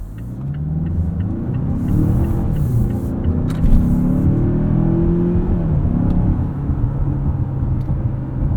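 A 2020 Mazda CX-5 Signature turbo AWD engine accelerating flat out, heard from inside the cabin: a steady, loud rising drone and rumble with engine pitch climbing smoothly, continuous throughout, without speech.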